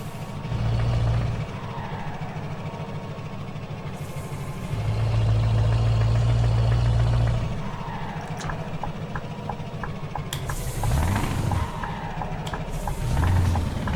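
Open-pipe truck engine with bottom-end knocking in Euro Truck Simulator 2, a loud, low throbbing rumble that swells and fades in repeated surges, with rattly clatter and clicks.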